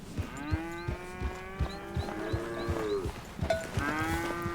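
Cattle mooing in the video game Red Dead Redemption 2, several drawn-out moos following one another at close range over a low rumbling background, with no talking.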